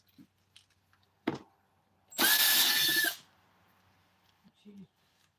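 A power drill whirs in one loud sustained burst of about a second, used on an engine recoil assembly, with quieter clicks and handling knocks before and after.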